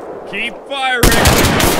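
A sudden burst of gunfire in the war game Mud and Blood erupts after a short stretch of voice-like sounds, then continues as dense, loud, sustained crackling shots to the end.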